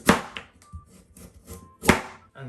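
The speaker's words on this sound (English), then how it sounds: "we're going to cut the carrots in slices first" A knife slices carrots on a wooden cutting board, giving a few crisp, close chops at uneven intervals, with soft scraping between strokes.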